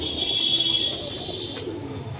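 A small Pakistani high-flyer pigeon coos softly nearby over a faint high-pitched background tone, with no talking.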